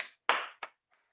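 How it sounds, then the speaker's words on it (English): Three short bursts of hand clapping at the close of a fitness workout class, near and loud, quick and uneven, with a faint trailing tap after. "give yourself an applause."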